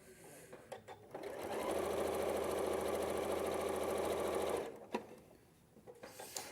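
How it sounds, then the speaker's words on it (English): A sewing machine runs steadily for about three seconds while long fabric strips are stitched, a loud continuous whirring hum that starts and stops cleanly, with brief voices and handling noises before and after. "So I'm sewing some long strips at the moment."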